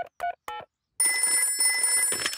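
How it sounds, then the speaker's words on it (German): A cartoon telephone rings in a Peppa Pig episode, a few short bursts followed by a steadier bright electronic ring, clear and close, with brief voices at the start. "ich werde den Doktor anrufen"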